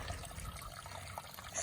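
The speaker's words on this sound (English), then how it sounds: "just there where the water is coming out, you can hear it trickling down there" Spring water trickles out of a hillside where an old road cut exposed it: a faint, steady, continuous trickle that stays soft and even throughout.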